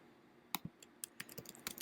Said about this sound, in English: I'm going to go ahead and just type test here.